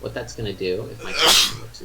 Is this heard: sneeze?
yes